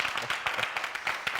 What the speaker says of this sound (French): Est-ce que je peux vous demander de vous applaudir bien fort?